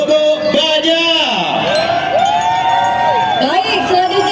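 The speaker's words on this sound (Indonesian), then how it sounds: "Boleh kita berikan tepuk tangan yang meriah untuk SD Negeri" A crowd cheers and whoops for a primary school group marching in a cultural carnival in Lubuk Baja, Batam, as a loud announcer's voice rises and falls over the steady cheering.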